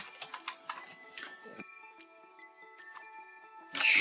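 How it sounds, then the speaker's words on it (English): HTML code being typed on a computer keyboard: a quick cluster of light key clicks, then a few sparse taps, close and fairly faint over a quiet background, ending in a brief louder burst of noise. "So I will type this little coding."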